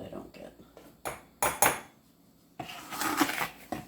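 A metal spoon clinks and clatters against a mug or container while cocoa is poured, giving a few sharp close taps followed by a brief scraping rustle.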